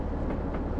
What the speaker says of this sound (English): the gentle k-k-k-k over the track. Which is, of course, the wheels passing over the gaps in the track.